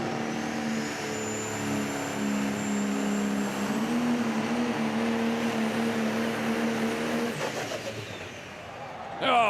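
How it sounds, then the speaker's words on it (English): Pro Stock diesel tractor roars steadily through a tractor pull, its loud engine drone rising in pitch midway and then cutting off abruptly near the end, with an announcer talking over it. "Covering the Pro Stock Tractor category here."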